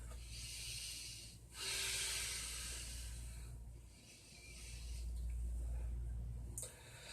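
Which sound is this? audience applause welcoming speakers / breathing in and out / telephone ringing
breathing in and out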